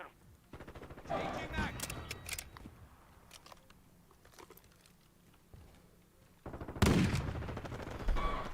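Rapid bursts of gunfire come from Modern Warfare 2 multiplayer gameplay, clustered early on and again near the end, with quieter game sounds in between.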